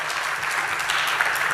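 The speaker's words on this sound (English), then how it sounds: "Please give round of applause for my guests." A live audience at a podcast talk event claps in a sustained, even burst of applause that fills the space, close and fairly loud, with no voices standing out.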